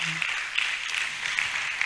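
An audience at a university inter-faculty debate competition claps continuously in a steady, even wash of applause.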